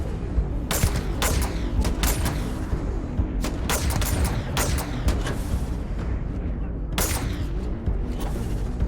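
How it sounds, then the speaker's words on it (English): Rapid gunfire mixed with heavy grenade explosions in a Starfield firefight against raiders, sharp loud bursts in quick clusters and a bigger blast near the end, over a dense rumbling background. "Oh, he tried to hit me with a grenade in midair though."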